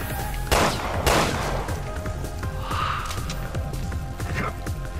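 Rapid bursts of machine gun fire in the video game Resident Evil Revelations 2, several sharp volleys in quick succession over a background of game effects and clatter.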